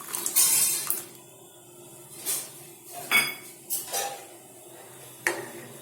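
Boiled pigeon peas tipped into a pot of simmering amti and stirred in: a handful of scattered metallic clinks and scrapes of a spoon against the pot, fairly close, with no voices.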